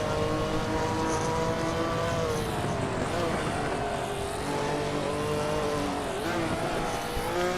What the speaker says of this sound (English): These two are still skirmishing around the track,